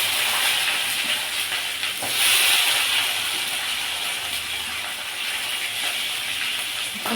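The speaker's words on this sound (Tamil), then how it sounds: "நம்ம வெங்காயம் சேர்த்துப்போம்" Onions drop into hot oil with pepper and cumin and fry with a broad, continuous hiss that swells briefly and then holds steady, close and loud, with no voices.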